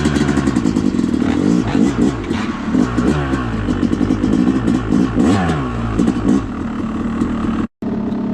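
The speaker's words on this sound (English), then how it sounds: "2013 YZ250. Taking it out for a ride today." A 2013 Yamaha YZ250 two-stroke dirt bike runs close by, its engine crackling and revving in loud, choppy bursts with rising and falling pitch before cutting out briefly near the end.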